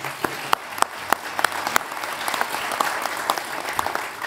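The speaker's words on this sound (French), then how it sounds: "Vous pouvez les applaudir" A conference audience claps for the people behind a Decathlon Kipsta eco football boot project, with sharp distinct hand claps standing out over a steady wash of applause.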